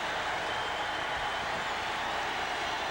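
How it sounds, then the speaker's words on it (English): Steady broadband roar of a packed stadium crowd at a 1985 NFL divisional playoff football game between the Cleveland Browns and Miami Dolphins in Miami, continuous and dense throughout with no individual voices standing out. "The 12th man intense now. The crowd noise so hard to work against."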